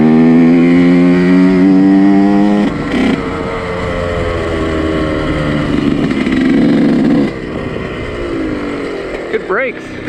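A 2020 Yamaha YZ125X two-stroke dirt bike is ridden hard. Its engine screams loudly and climbs in pitch through the revs, then drops away and rises again in shorter bursts while the bike passes close by.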